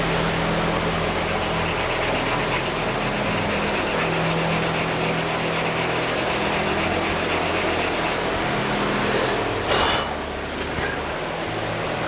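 Grooves in an epoxy resin shaving brush handle are sanded by hand in a steady, close, continuous scratchy rubbing, with a brief louder scrape near the end and no one talking.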